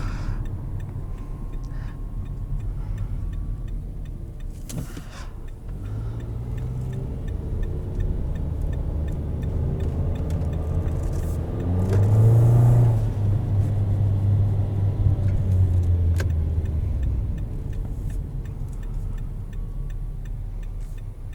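A pre-owned 2015 Nissan Altima SL accelerating in drive sport, heard from inside the cabin as a steady low engine drone that rises and swells in the middle before easing off, with no talking.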